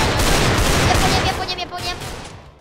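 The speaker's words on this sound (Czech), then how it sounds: "Asi někdo střílí." Gunfire in a video game, a rapid burst of shots followed by scattered echoing fire that fades toward the end, loud and close.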